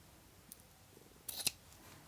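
Scissors snip through ribbon, one quiet click followed by a brief, sharper double cut close by, in an otherwise very quiet room.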